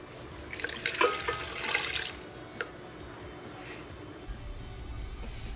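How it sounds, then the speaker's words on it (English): Water is dumped into a mixing bowl over yeast in a short splashing pour lasting about a second, followed by faint drips and quiet room noise. "dump our water into our mixing bowl on top of our yeast"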